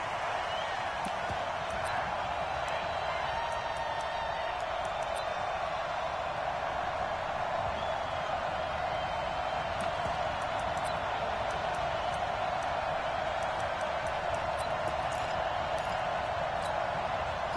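A stadium crowd in a football video game roars as a steady, loud wall of noise that never lets up, with a commentator's voice faintly over it.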